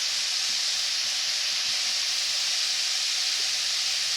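Salmon omelet ingredients sizzle softly in a pan as they are stirred, a steady airy hiss with faint scraping underneath and no talking.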